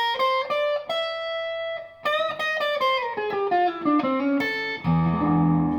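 An electric guitar through a fuzz effect plays a descending altered-scale run, then a whole-tone run, as a series of distinct sustained notes. The playing is loud and close and ends on a gritty, distorted chord.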